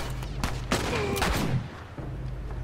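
Gunshots in The Last of Us Remastered: a few sharp, close shots mixed with game sounds and a low steady hum, brief and punchy.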